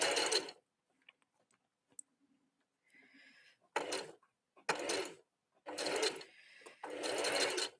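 Sewing machine stitching two pieces of fabric together at a craft convention, running in several loud bursts of rapid mechanical whirring separated by short pauses.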